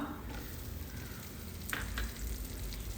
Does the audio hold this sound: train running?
no